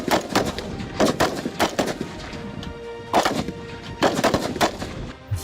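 Military MArS guns firing during an Indo-US desert exercise, with repeated sharp, loud blasts in irregular bursts across the clip and some sustained rumble between them.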